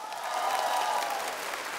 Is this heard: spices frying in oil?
no